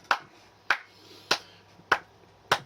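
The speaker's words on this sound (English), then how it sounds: "I have to give this man a round of applause." A single person clapping for Doctor Who actor Roger Delgado: five sharp, evenly spaced claps about 0.6 seconds apart, close and distinct, with a faint hum beneath.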